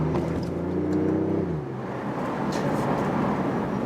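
BMW i8 Roadster with a small engine, heard from inside the car: a steady low engine drone that drops in pitch as the car shifts, continuing as a rumbling hum.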